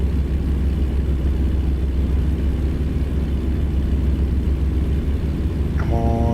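A heavy 48,000-pound truck in American Truck Simulator laboring under load, a steady low engine drone with rumble, loud and unbroken, with a brief tonal chime near the end.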